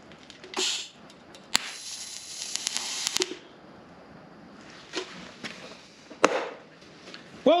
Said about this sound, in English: This is DC electrode positive welding, 3/32 rod.